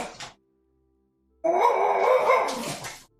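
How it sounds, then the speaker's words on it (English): A French bulldog barks indoors at a delivery person, one short yelp followed after a pause by a sustained burst of loud, close barking. "Oh man, killer dog, killer cute little French bulldog, right?"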